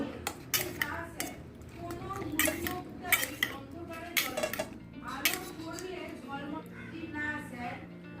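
Pieces of fish being stirred by hand into a spice paste with tomato sauce in a metal dish, giving repeated clinks and scrapes of utensils against the pan while someone talks over the mixing.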